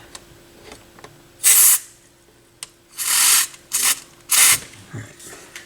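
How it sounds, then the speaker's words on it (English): Contact cleaner sprayed onto the pitch control resistor of a Technics SL-D3 turntable in short hissing bursts, five blasts of varying length with small clicks and handling noises between them, close up. "Might as well get some contact cleaner"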